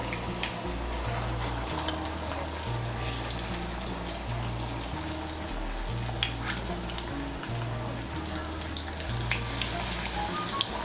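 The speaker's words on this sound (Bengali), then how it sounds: "আঁচটাকে মিডিয়াম করে পকোড়াগুলো ভেজে নেব" Battered pointed gourd pakoras fry in oil over medium heat, a constant bubbling sizzle close by with a low steady hum underneath.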